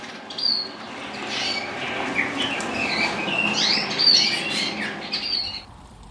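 Native birds in an outdoor aviary on a summer day, with scattered chirps and squawks of varying pitch over a steady background hiss, fading toward the end.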